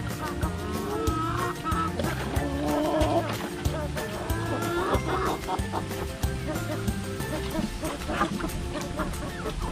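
Rhode Island Red chickens on a free-range farm clucking and calling continuously around a person talking, a busy flock close by with steady layered bird chatter.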